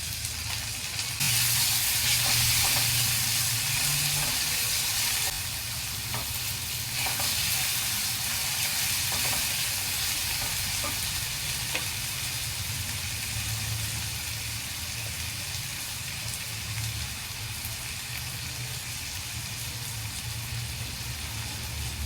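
Tomatoes sizzle as they fry in a pan while ragi flour upma is being made, with a steady, loud hiss of frying and some stirring running the whole way through, without any talk.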